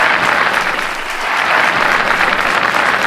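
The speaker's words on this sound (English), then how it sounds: "Let's give her a round of applause." A comedy show audience applauding a surprise guest act, a loud, steady wash of clapping from a full room that holds for the whole few seconds with no voices above it.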